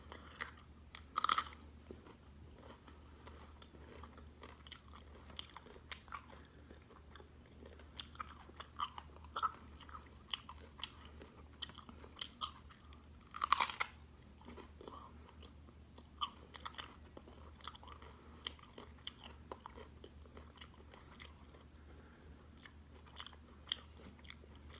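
Someone chews crunchy raw baby carrots, broccoli and cauliflower close to the microphone, a soft, steady run of crisp crunches and occasional louder bites over a low background hum.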